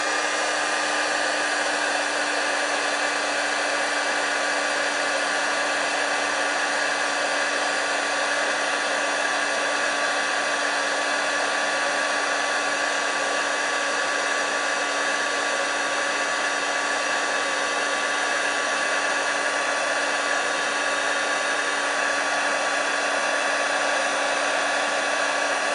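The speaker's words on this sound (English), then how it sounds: "I've got two heat guns, but I really like my old one, which hasn't got 2 speeds" A steady electric heat gun, an older single-speed model, blows with a continuous loud whirring hiss and a fixed whine that never changes for the whole stretch, with no voices over it.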